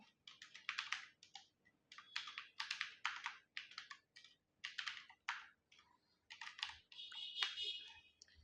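Rapid bursts of keystrokes on a computer keyboard while entering text into table cells in Adobe InDesign, clicking in uneven clusters with short pauses between them, close and fairly quiet.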